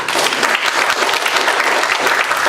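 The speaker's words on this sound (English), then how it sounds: "Yeah, you can clap." An audience claps steadily throughout, a dense wash of many hands with no pauses, fairly loud and close.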